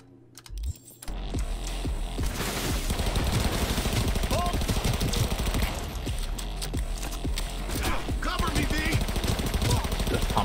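Rapid automatic gunfire from a weapon in Cyberpunk 2077, dense sustained bursts that fill the scene loudly and continuously after a brief quiet start, with a voice talking underneath.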